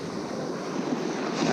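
Ocean waves break on a beach in a steady rushing wash of surf, mixed with wind buffeting the microphone, loud and continuous for a short stretch with no voices.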